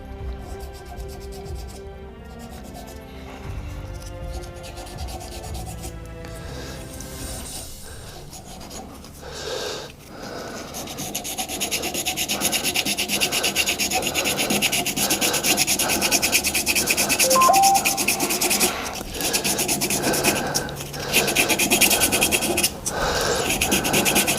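Grit paper rubs against a turned resin shaving brush handle in a workshop, a soft rasping that grows into a louder, steady continuous scratching friction, close and without talk.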